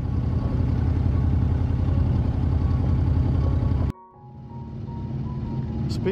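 A sailboat's small auxiliary engine idles on a calm, windless fairway, a steady close low throb that cuts off abruptly, then returns more quietly.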